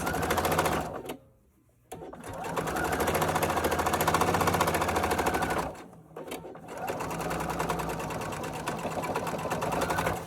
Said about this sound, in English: you're going to sew a 1/4 inch seam all the way across